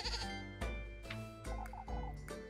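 A goat bleats in a series of wavering, nasal cries, loud and close, several calls in quick succession with short gaps between them.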